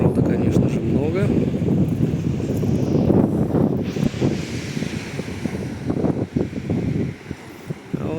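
Big waves break on a windy beach with wind buffeting the microphone, a loud rolling surf under bursts of gusting wind throughout, no one speaking over it.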